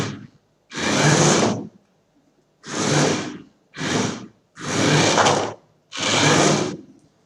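High-rpm motors on an Arduino-programmed robot whir in five separate bursts of loud, close, buzzing drive noise, each a second or so long, with short silent gaps between them.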